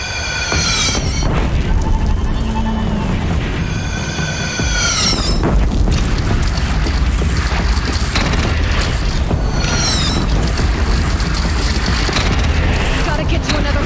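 Cannon fire during a battle in Horizon Zero Dawn, a loud sustained booming barrage under battle noise, with shouting voices and whooshing sweeps.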